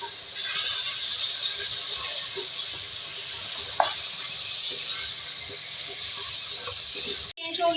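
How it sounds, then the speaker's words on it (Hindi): Half a kilo of mutton fries with ginger-garlic paste in a pot, making a steady close sizzle with occasional rattles from stirring, and a voice talks briefly over it. "देखिए इसको फ्राई कर लेंगे"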